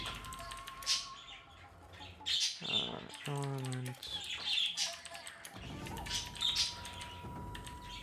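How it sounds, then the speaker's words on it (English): Birds chirp and squawk in short bursts, mixed with loud harmonic calls, while a person talks over them throughout. "these birds"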